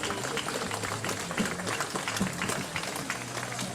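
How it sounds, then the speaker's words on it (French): Audience applause at the opening speech of the Montée Historique Internationale du Ballon d'Alsace, a historic hill-climb event held outdoors. A steady, dense patter of clapping fills the whole stretch with no letup. "Merci de vos applaudissements"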